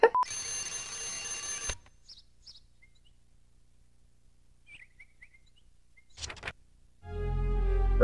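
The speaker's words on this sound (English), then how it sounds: "why you look at that alarm clock like, damn, I did not want to wake up today." A video game alarm clock in Shenmue rings with a bright, harmonically rich tone for under two seconds, then near-silence with faint chirps, a short burst, and a low droning sound swelling at the end; no speech.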